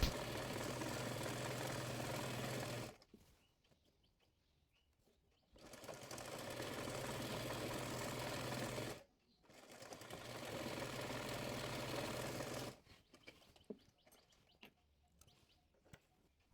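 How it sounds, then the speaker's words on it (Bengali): Sewing machine stitching the folded one-inch hem of a palazzo trouser leg, three separate runs of steady whirring, each about three seconds long and separated by silent pauses, with no talk. "একইভাবে অপর পায়ের মুহুরিটিও 1 ইঞ্চি মুড়িয়ে সেলাই করে নেব।"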